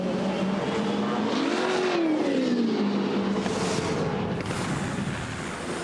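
V8 Supercars race cars roar up Mountain Straight at Bathurst during the 2015 Bathurst 1000, a loud sustained engine note rising and falling in pitch as cars accelerate and pass, with crowd-like background noise.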